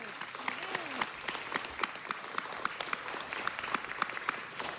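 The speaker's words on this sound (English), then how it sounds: "He deserves a huge round of applause." Steady applause from a crowd at a Los Angeles City Council presentation, many hands clapping continuously at moderate volume, with a faint voice briefly audible underneath.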